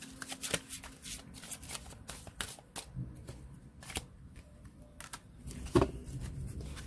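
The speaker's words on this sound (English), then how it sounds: "Pull an herb card for you." Tarot-style cards shuffled by hand to draw an herb card, quiet riffles and soft slaps of card stock in quick irregular bursts, close and fairly faint.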